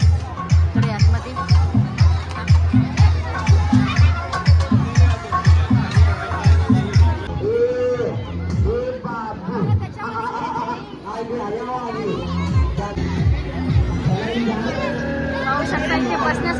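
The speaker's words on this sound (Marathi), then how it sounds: "खूप म्हणजे खूपच गर्दी आहे" Dense crowd noise at the Kandivali fair in Mumbai, a loud, steady hubbub of many voices and babble with rhythmic thumping early on, close and continuous throughout.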